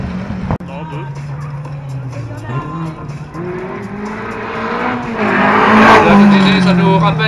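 A Porsche 911 Carrera RS rally car runs a seafront prologue stage, its engine droning and rising in pitch as it accelerates past, growing louder toward the end, while a commentator talks over it.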